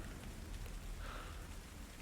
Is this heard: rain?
yes